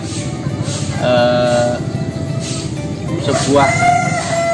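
Roosters crow twice, loud and close, at an Arab chicken farm, the second call longer and rising, with chickens clucking and someone talking throughout.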